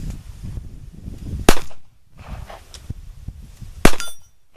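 Two loud, sharp pistol shots from a Ruger LCP Max fired outdoors at a 25-yard range, spaced a couple of seconds apart, each with a short echoing tail over faint background noise.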